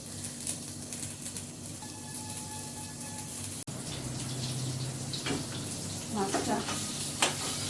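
Steady, close sizzling of food frying in a pan, a constant crackling hiss with a few sharper pops toward the end.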